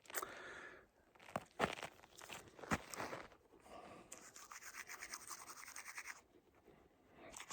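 A toothbrush scrubs teeth close to the microphone while camping in a turf hut, with quiet rhythmic bristly strokes and a few louder scratchy bursts, no voices.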